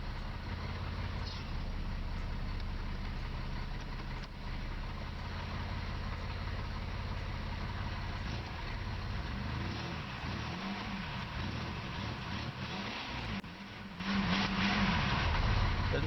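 Engine of a vehicle idling steadily and evenly after a short revving, a continuous close drone with a slight rise in level near the end, no talking.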